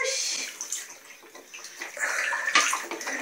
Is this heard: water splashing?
yes